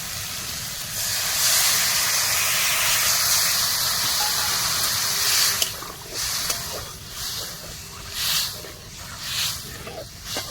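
A tamarind sour broth for a crab dish boils in a pot with a loud, steady hiss and bubbling, then settles into softer, uneven simmering for the last few seconds.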